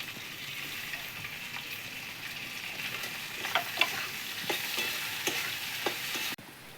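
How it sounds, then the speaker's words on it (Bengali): Onions fry with garlic in a pan, a steady close sizzle broken by several sharp scraping taps of a spoon stirring, ending abruptly. "পেঁয়াজগুলো ভাজা হয়ে গেছে"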